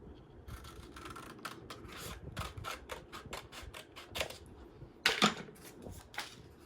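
Scissors snipping through paper or card in a rapid series of crisp, close cuts, quiet overall with one louder snip near the end, no talking.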